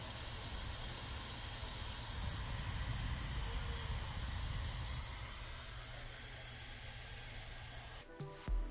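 Steam Deck cooling fan running at full blast, a loud, steady broadband whoosh like a jet engine that holds for about eight seconds before a brief clatter at the end.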